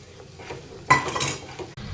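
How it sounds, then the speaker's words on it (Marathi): A spoon clinks and scrapes in a pan while stirring and breaking up egg bhurji seasoned with turmeric and chutney, with soft, irregular stirring sounds and a sharper knock near the middle, close up and without talk. "तर भुर्जी आपण छान मिक्स करून घेतली, बारीक करून घ्यायची, हलवताना चमच्याने तोडून घ्यायची।"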